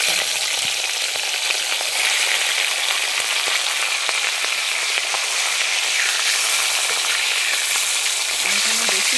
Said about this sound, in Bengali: আমার তেলটা গরম হয়ে গেছে। আমি এবারে ইলিশ মাছের মাথাটাকে ভেজে নিচ্ছি।